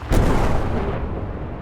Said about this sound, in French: il y a une forte détonation, comme une bombe qui illumine brièvement la nuit